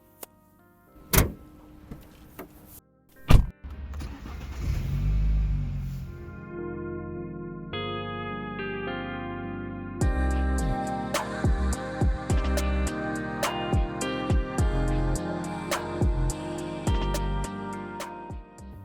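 A BMW F30 with a 252-horsepower engine, heard from inside: a few door and mechanism clunks, then the engine starting and building into a strong, rising acceleration with gear changes, loud and close.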